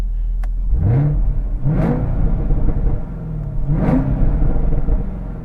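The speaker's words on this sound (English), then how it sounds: "This car sounds so good and drives so nice." A 2019 Chevrolet Camaro ZL1's supercharged LT4 V8, paired with a 6-speed manual, revs up in three strong bursts, each rising roar followed by a drop, with a steady idle rumble between.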